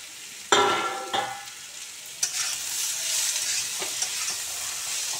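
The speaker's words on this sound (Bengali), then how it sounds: "এবার আমি কেটে রাখা পেঁয়াজগুলো দিয়ে দিলাম," Chopped onions dropped into hot oil for a pumpkin curry, a sharp initial hiss settling into a steady sizzle, with a few spoon stirs and scrapes, close and clear.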